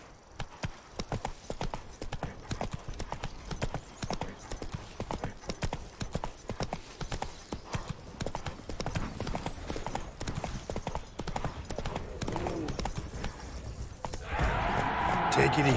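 Roach, the horse in The Witcher 3 Wild Hunt, gallops in a fast, steady drumming of hoofbeats that runs throughout, with a voice speaking over parts of it and a brief snort near the end.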